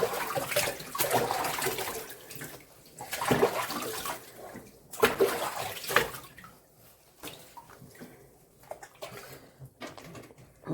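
Dog being rinsed in a bathtub: irregular bursts of splashing and pouring water, loud and close, with quieter gaps between the splashes.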